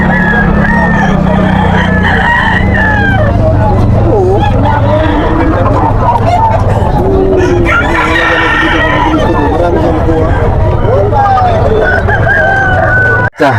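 Roosters crow repeatedly at a busy chicken market, loud and close, over constant crowd chatter and a seller's voice.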